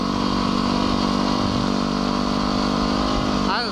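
A motorcycle cruising at speed on the road, a loud steady engine drone with wind roar throughout, heard from the rider's position, with a voice talking over it.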